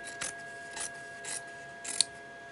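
Scissors snipping through recycled denim jeans fabric during crazy-quilt embroidery prep for a teddy bear bag, with four separate short rasping cuts spaced out, close and moderately quiet with no talking.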